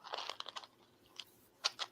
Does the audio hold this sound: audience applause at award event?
no